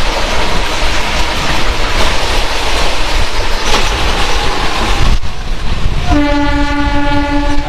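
A train pulls into the platform at Kharagpur Junction with a steady rolling rumble of wheels and carriages, then a loud, sustained horn blast near the end.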